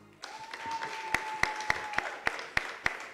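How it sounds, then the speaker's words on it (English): Audience applause after a singing performance in a competition finals show, a light clatter of clapping with regular sharper claps standing out, while a sustained tone hums underneath. "A round of applause for Bernice."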